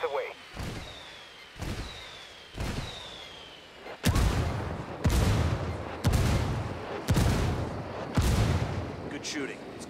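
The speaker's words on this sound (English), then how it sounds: "I'm calling for indirect fire." Artillery strike in Ghost Recon Wildlands: a string of about eight heavy booming impacts lands at a steady pace, with faint whistles before the first few and rumbling tails that grow louder and closer in the second half.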